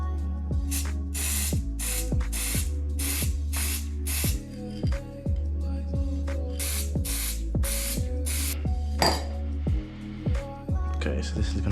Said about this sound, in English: Okay, so now we're going to use Teflon spray. So this is it's dry lubricant.